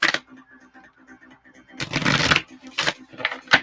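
A deck of spiritual oracle cards is shuffled by hand in a series of soft, rapid riffling bursts, with a quieter stretch between them and a low tone underneath.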